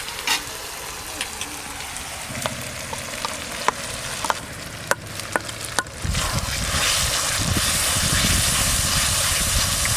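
Spice paste hits a hot pan of sautéed onion, ginger and garlic with turmeric for a country chicken curry, scraped by a few sharp spoon clinks before settling into a loud, steady sizzle as it fries.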